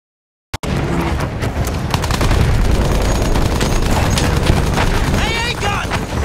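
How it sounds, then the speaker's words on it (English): Battlefield 1 gameplay as rockets are fired at Zeppelins: after a brief silence, a sudden loud, dense barrage of explosions and gunfire rolls on continuously, close and heavy, with whistling weapon sounds near the end. "just use your rockets"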